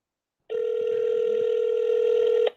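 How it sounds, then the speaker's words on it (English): A single steady telephone tone sounds during an outgoing phone call, holding one flat pitch for about two seconds before cutting off abruptly. "Calling him on the phone."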